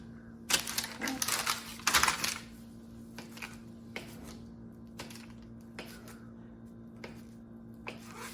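Whisking white sugar and salt into flour in a bowl for pie crust: a burst of scraping, clinking strokes near the start, then sparse light taps and scrapes over a quiet room hum.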